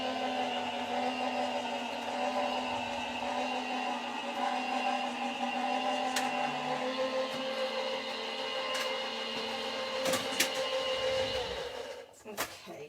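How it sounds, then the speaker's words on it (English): A die cutting machine presses a detailed cover plate die. It gives a steady, low mechanical whirring and rolling hum that runs for most of the clip, with a few faint clicks near the end. "I'm going to just move it to on a bit of an angle through my die cutting machine to try and help with the pressure"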